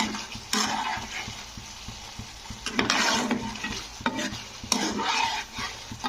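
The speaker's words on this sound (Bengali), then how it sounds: "তো ডিমগুলো দিয়ে একটু কষে নিতে হবে এই মশলার মধ্যে।" Boiled eggs tossed in thick South Indian–style curry masala, a spatula scraping and stirring the pan in repeated strokes over a steady, moderate sizzle.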